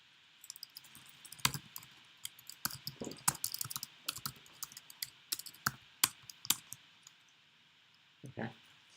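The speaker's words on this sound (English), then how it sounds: "in the second notebook, type print hello scipy and execute that code" Rapid, uneven clicking of computer keyboard keys as code is typed into a JupyterLab notebook, close and fairly faint, with bursts of keystrokes spread across the whole stretch.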